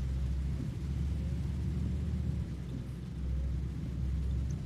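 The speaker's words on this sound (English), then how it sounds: "Oh, I love the rain." Rain in the Euro Truck Simulator 2 driving game makes a continuous, dense hiss over a deep, steady rumble, holding at an even level throughout with no talking.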